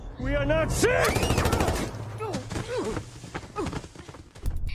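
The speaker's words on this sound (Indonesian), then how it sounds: "Si tentara meminta maaf dan meluncurkan tembakan kedua" Rapid bursts of gunfire crackle through a tense film scene, mixed with shouting voices and chaotic background noise, loud and close.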